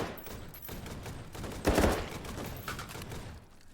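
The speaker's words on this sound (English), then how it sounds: "Beep2Bleep is taking quick control of the room with the AA-12." Gunfire from an AA-12 shotgun in a video game crackles in quick bursts, with one heavier, louder blast in the middle and fainter shots around it.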